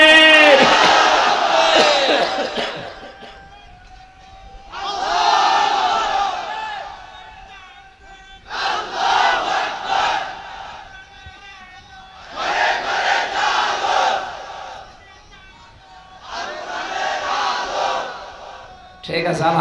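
A large crowd at an Islamic sermon shouts takbir in unison, five loud swelling roars of many voices separated by short quiet gaps, each chant rising and fading.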